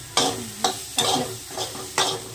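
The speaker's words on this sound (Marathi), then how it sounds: "ते सगळ्यात तेल टाकून भाजावं लागतं बघा तेल टाकून भाजायचं" Sweet corn roasting in oil in a pan, with a handful of sharp stirring scrapes standing out over a steady low sizzle, close by and without any talk.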